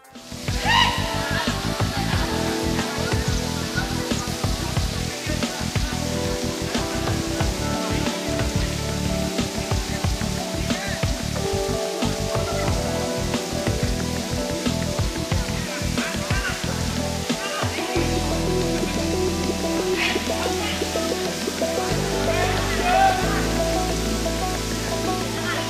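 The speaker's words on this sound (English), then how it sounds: "The slight waterfall is in the dense forest." Mallela Thirtham waterfall in dense forest near Srisailam, a steady close rush of falling water sustained throughout, with faint talk underneath at times.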